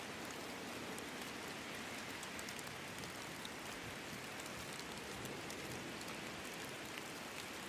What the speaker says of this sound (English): As the rain fades and the darkness retreats